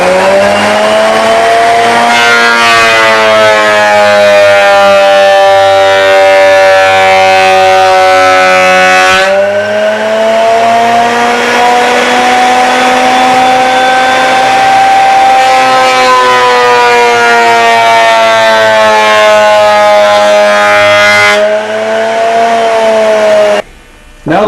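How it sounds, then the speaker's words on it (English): A thickness planer smooths a glued-up guitar body blank in a luthier's shop, giving a loud, continuous motor whine with strong overtones that sags in pitch as the wood feeds through, then recovers before cutting off abruptly. "we're going to run it through the planer to smooth it out and get the correct thickness for the body"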